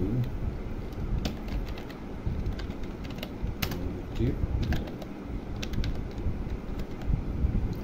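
Typing on a computer keyboard while entering text in a CapCut editing session, with scattered light key clicks in uneven bursts over a steady background hiss.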